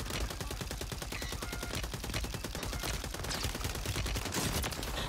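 Rapid, continuous SMG fire in a Warzone Rebirth Island match, a dense stream of sharp cracks running the whole stretch at steady loudness with no pause.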